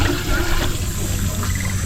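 Water gushes from a burst pipe in a loud, steady, broadband rush that stays constant throughout, close by.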